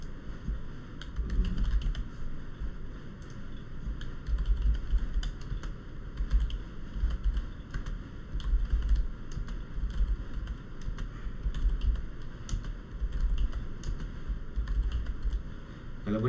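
Fingers tap steadily on a computer keyboard, close and fairly soft, in quick irregular clusters of clicks over a low room hum.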